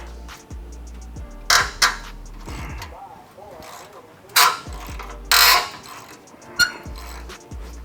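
A ratchet wrench clicks and cranks on rusty 13mm nuts during a Porsche turbo install, with bursts of metallic ratcheting and several sharp louder clanks, close up, with someone talking intermittently.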